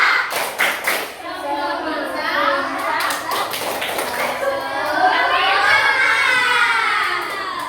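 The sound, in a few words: group spirit clapping chant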